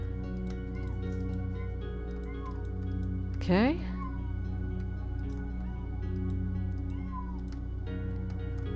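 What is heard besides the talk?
pet cat meowing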